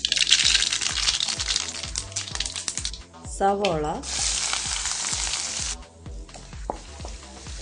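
Mustard seeds crackle and pop in hot coconut oil in a pan for a Kerala-style carrot mezhukkuperatti, with rapid sharp spatters over a steady sizzle. The sizzle dips briefly midway while a short tonal warble sounds, then the frying carries on.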